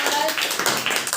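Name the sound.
class clapping for a child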